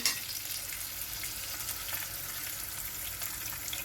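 Meatball fat poured into a hot pan for Turkish köfte with tomato sauce, sizzling in a steady, even hiss that carries on unbroken at moderate loudness.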